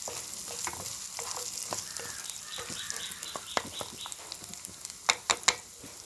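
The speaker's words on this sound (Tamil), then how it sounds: "தேங்காய் நல்லா வதங்கிடுச்சு." Grated coconut sautéing in homemade ghee in a pan, with a steady sizzle and soft frying crackle, plus scraping stir strokes and a few sharper clinks near the end.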